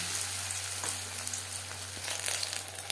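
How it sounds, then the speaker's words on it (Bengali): Marinated fish dipped in batter fries in hot refined oil over a low to medium flame, producing a steady, dense sizzle with scattered louder pops and crackles and a low hum beneath it, with no speech. "ফিশ ফ্রাই ভাজবো লো টু মিডিয়াম ফ্লেমে।"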